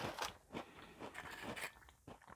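Close, quiet crunching as someone bites and chews an Anna's licorice gingerbread cookie, a run of crisp irregular crunches with short pauses between them.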